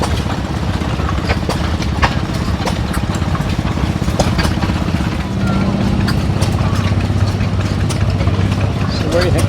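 Old farm engine chugging at a threshers reunion demonstration in Mt Pleasant, Iowa, a steady loud mechanical putter with regular beats, while people talk nearby over it.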